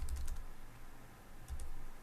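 Soft keyboard typing in a quiet room, a short burst of key taps, a pause, then another brief flurry.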